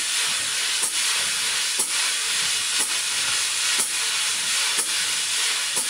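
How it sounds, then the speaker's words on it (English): Brushes swishing on a snare drum with a hi-hat in a drum lesson, a continuous loud swirling hiss punctuated by regular, evenly spaced hi-hat chick accents about once per second. "We're going to put that hi-hat in, it's going to help us keep timing."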